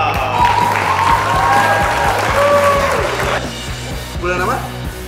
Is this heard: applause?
yes